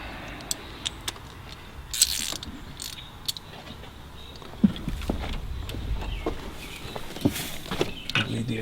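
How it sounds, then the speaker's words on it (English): Ratchet cranking on blow-off valve bolts during a Sentra Turbo / Juke install, heard as faint, scattered mechanical clicks and ticks at a low level under quiet background, with no talking. "now we go through and give it a little cranky crank with the ratchet."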